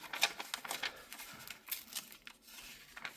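Paper torn by hand while making a beginner watercolor Christmas card, a series of short ripping and crinkling bursts, fairly close and moderately quiet, spaced irregularly with brief pauses.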